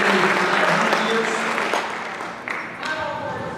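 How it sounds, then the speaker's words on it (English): An audience applauds at a youth citizenship awards ceremony, a full, sustained round of clapping that slowly tapers, with a voice faintly underneath. "And of course, a big round of applause for Rosemary Refuse."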